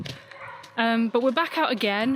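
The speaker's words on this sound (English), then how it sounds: "excuse the dogs barking" Dogs bark and yip in quick bursts, fairly close and loud, over a person speaking, while the dogs play on a loch beach near a campsite.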